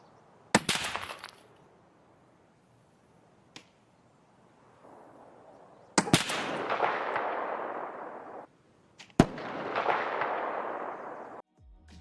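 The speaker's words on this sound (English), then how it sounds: "suppressed shots are now no longer heard from the muzzle. The only audio you'll hear is the crack of the bullet or the bullet impacts themselves." Suppressed rifle shots in Escape from Tarkov: sharp, isolated bullet cracks and impacts, each followed by a long, fading echo, with quiet gaps between them and no talk.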